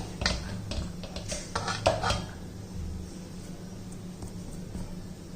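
Cooked ragi dough is scraped and moved from a pan into a bowl: a few seconds of clattering metal-on-pan scrapes and knocks up close, then fading to quiet kitchen background.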